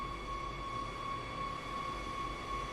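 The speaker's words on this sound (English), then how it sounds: "Accelerates very quickly, this, all things considered." An electric train accelerating in Train Sim World, heard as a steady, even hum with a constant whine from the traction motors and no speech.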